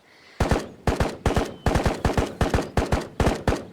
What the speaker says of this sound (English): somebody's wasting a lot of ammo